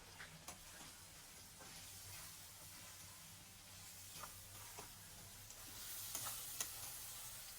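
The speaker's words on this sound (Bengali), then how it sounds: "আমি ডিমগুলো দিয়ে একটু কষিয়ে নেব কিছুক্ষণ।" Eggs fry with spices in a pan, giving a faint, steady sizzle broken by scattered clicks and scrapes of stirring.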